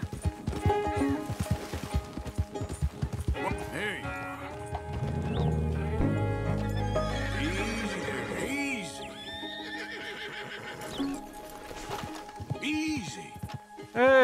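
A horse in Red Dead Redemption 2 whinnies and snorts repeatedly, with hoof clip-clops mixed in, loud and close, alongside game music and ambient sounds.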